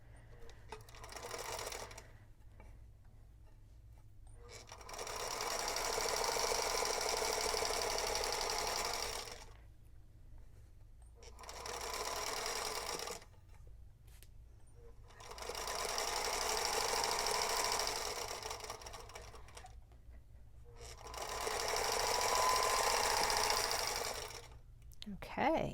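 A home sewing machine runs in three long bursts, stitching a piecing seam for a quilt block, with a steady, fast, close-up hum and short pauses between runs.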